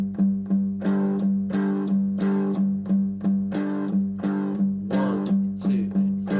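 Distorted electric guitar playing a rock rhythm with accented strums, a steady pulse of chord hits, about two per second, ringing alone at even loudness.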